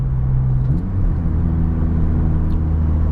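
A car running a Ktuner with rev hang disabled drives along a street, its engine a steady close rumble that shifts pitch once early on, with no talking.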